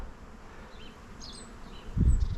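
Honeybees buzzing around the hives of an apiary beneath flowering cherry trees, a faint hum with passing insect tones, ending in a louder low thump or rustle near the microphone.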